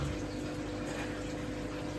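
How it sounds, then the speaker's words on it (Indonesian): Tap water from a mains faucet pours steadily into a tilapia fish tank during a water change, a continuous close rushing and gurgling that stays loud throughout without any talking. "Ini air langsung dari keran air ledeng."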